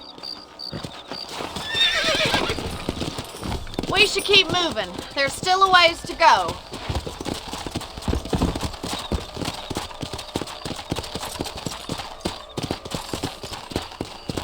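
Steady hooves clip-clop at a trot throughout in Red Dead Redemption, with a horse whinnying early on and someone speaking briefly over the hoofbeats.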